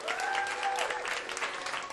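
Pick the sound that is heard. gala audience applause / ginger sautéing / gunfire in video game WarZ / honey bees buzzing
gala audience applause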